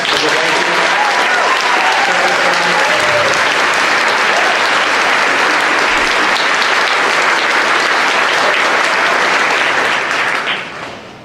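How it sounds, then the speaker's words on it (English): A banquet audience at a school honors dinner applauds the staff serving dinner: dense, loud, sustained clapping from many hands filling the room for about eleven seconds before tapering off at the end. "Could we give them a round of applause so they can hear us?"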